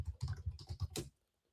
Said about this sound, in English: I'll look it up if you don't mind me typing in the background.